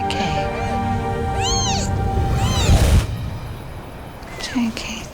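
A tiny newborn kitten at a veterinary clinic gives a series of high, rising-and-falling meows up close, several cries in quick succession.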